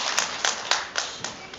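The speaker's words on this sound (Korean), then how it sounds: "오늘 사회를 봐주신 우리 김종수 선생님과 스태프들에게 뜨거운 박수 한번" Applause from an audience at a poetry reading in Suwon, thanking the host and staff: a short burst of scattered, fairly faint clapping with several distinct sharp claps standing out over the patter.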